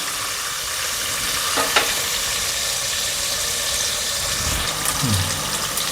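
Chopped ivy gourd (tondli) stirred and frying in a pan, a steady close sizzle with scraping stir strokes and a couple of clunks, fairly loud throughout.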